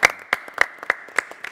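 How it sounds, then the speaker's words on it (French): A small audience claps in a television studio with a handful of sharp, evenly spaced handclaps in a steady rhythm. The sound is close and fairly sparse rather than a full ovation. "On peut même applaudir."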